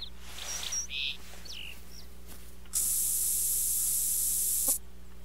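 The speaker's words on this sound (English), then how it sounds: "Spray that scent shit on you." Hunting scent spray hisses out in one continuous burst of about two seconds, close and bright, after a few faint outdoor chirps and small noises in the woods.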